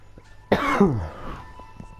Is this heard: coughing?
yes